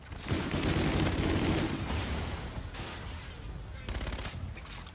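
An LMG Auger Pulverizer machine gun in Infinite Warfare fires a long, rapid, close burst of automatic shots, then stops and resumes with shorter bursts.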